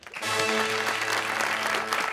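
A studio audience on a TV talk show claps briefly, a short burst of applause that rises quickly and holds, mixed with a sustained tonal musical background.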